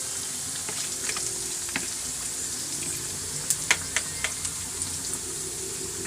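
Ginger garlic paste frying in a pan, a steady soft sizzle with scattered light clicks and stirring taps, a few sharper spoon knocks later on, no talking.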